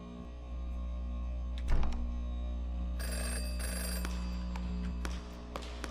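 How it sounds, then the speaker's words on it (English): An ominous telephone ringing in an Exit 8-style loop horror video game, an electronic bell tone sounding over a low steady hum, with a louder burst partway through, no talk. "if you're gonna have a random, ominous ringing phone, let me answer it"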